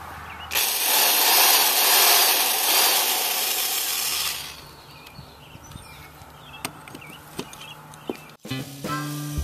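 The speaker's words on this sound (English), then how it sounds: "I think I'm going to try the other drill." A loud power tool whirs steadily for about four seconds, then stops, leaving quiet scattered clicks and handling noises.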